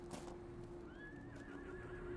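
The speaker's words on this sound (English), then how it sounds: "What is going on with this damn horse?" A horse in the video game Dragon Age Inquisition gives a brief, faint whinny with a rising then wavering pitch over soft hoof clops, heard alone.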